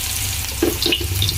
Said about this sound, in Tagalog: Pag ako po ay nagigisa, ang inuuna ko po ay sibuyas.